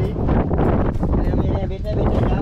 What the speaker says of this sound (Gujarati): તો અત્યારે પવન થોડોક વધારે છે